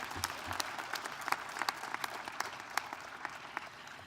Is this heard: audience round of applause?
yes